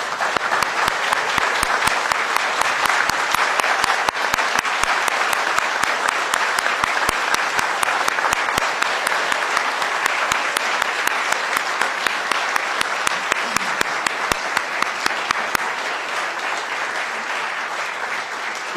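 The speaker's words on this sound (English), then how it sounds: "if you please rise, clap your hands, and thank our new members" A standing audience at a state assembly swearing-in applauds new members with long, steady clapping, dense and fairly loud, thinning slightly toward the end.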